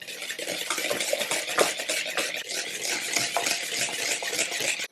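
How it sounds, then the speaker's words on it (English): A whisk beating a raspberry Jello and Cool Whip mixture in a bowl, a close, continuous rapid swishing and tapping against the sides, steady in loudness, with no talking. "We're going in with the whisk."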